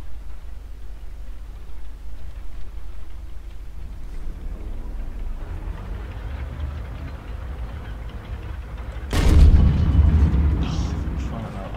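A tank cannon fires once in Roblox Tankery, a sudden loud boom that rumbles and decays over a couple of seconds after a long stretch of steady low engine drone.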